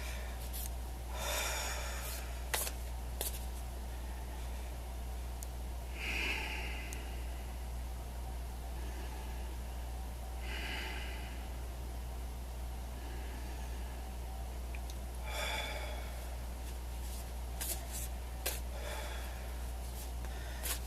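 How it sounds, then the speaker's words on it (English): Slow, deliberate breaths taken as a relaxation exercise before a card reading: a few long inhales and exhales spaced several seconds apart, close to the microphone over a steady low hum. "let me do my little breathing exercise that I do before I read."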